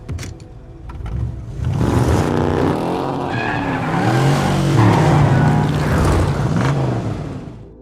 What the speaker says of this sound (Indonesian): Brian yang sudah memodif mobil, ia pun langsung mengetes mobil tersebut sekaligus mengasah skill Brian dalam menyetir